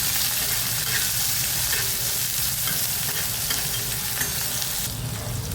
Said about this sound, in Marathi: मिरची, लसूण, टमॅटो, जिरं तेलावर 2 मिनिटं परतून घेऊया.